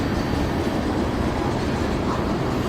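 Nearby, a train rolls past with a steady, loud rumble of wheels and cars, and no clear horn stands out.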